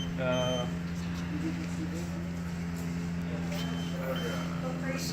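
Faint electronic beeping repeats in short bursts over a steady low hum.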